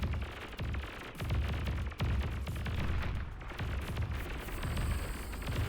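Construction turrets are destroyed in a Beyond All Reason real-time strategy battle, with dense, continuous crackling weapon fire and muffled blasts churning throughout at a steady, busy level.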